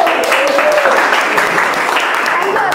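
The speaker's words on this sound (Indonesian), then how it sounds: "kita kasih aplaus dulu" Classroom applause during a teaching session, a steady wash of many hands clapping throughout, loud and close, with a voice faintly audible over it.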